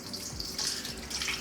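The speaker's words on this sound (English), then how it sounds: "I'm going to drain the water from the rice." Water pouring and splashing as it drains from washed basmati rice in a bowl, a continuous close hiss with brief swells, nothing else audible.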